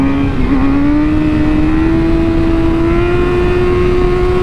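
A Yamaha inline-three motorcycle engine holds a loud, close, steady drone, its pitch climbing slowly and smoothly as the revs rise.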